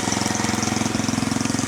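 A restored motorcycle engine runs close by with a fast, even thumping pulse, a steady, slightly rough mechanical beat throughout, alone with no voices.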